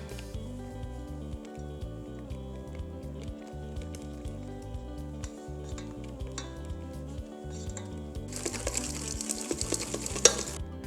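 Flour being mixed into bread dough in a bowl, soft repeated stirring and scraping under steady background music, growing brighter and busier near the end, with no talking.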